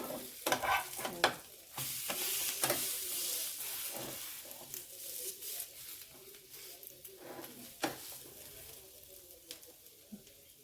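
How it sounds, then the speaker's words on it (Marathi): A bread omelette fries in a pan after being flipped, a soft steady sizzle broken by irregular spatula scrapes and taps, close and fairly quiet. "असं दुसरी बाजू पण मस्त अशी शेकून घ्यायची"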